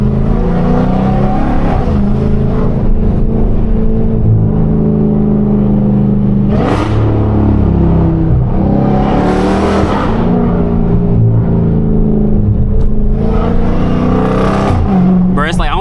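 A Dodge Hellcat cruising through downtown Charlotte, heard from the cabin: a loud, low engine drone swells into several sharp revving surges as it drives, with someone talking over it.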